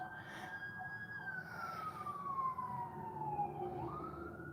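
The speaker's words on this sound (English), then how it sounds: "There's another siren." An emergency vehicle siren wails in the distance at night, one long tone slowly falling in pitch and then rising again, steady over a low background rumble.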